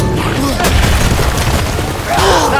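Explosive fire lands nearby in God of War Ragnarok, a heavy booming impact over a constant rumble of battle noise, with a second burst swelling near the end and voices calling out amid the chaos.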